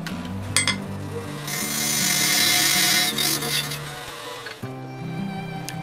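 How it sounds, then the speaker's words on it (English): A parting tool cuts a tenon on a bowl blank spinning on a wood lathe, giving a sustained, bright scraping hiss that swells for a few seconds over the lathe's steady hum and then cuts off. "To cut the straight shoulder of this tenon, you can use anything that's basically straight."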